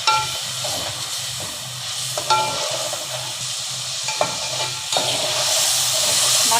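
Spices with turmeric stirred and fried in a pan for a hilsa in mustard gravy: crisp sizzling and hiss with repeated scraping stirs, close and moderately loud, no talk.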